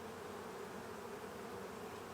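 Honey bees hum inside an opened hive during an inspection, a soft, steady, continuous buzz from many insects close by, with no talking.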